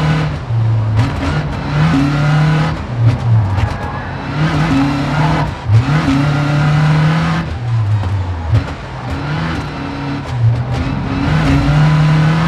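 A Citroën DS3 R3 Max rally car's engine revs hard and continuously through gear changes, rising and falling in pitch on a snowy night stage of Rallye Monte Carlo in the WRC 5 video game. It is loud and close throughout.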